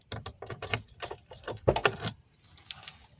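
Keys jangle and rattle up close as a truck is unlocked and opened, a busy metallic clinking with a few heavier knocks, fading to lighter jingles at the end.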